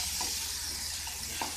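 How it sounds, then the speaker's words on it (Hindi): Spoon stirring spiced vadi and potato curry in a pan, with a steady low sizzle of frying underneath and a few soft scraping strokes, close and fairly quiet, no talking. "मिला के इसे हमें 1-1 मिनट में भून के इस तरीके से चम्मच चलाते जाना है।"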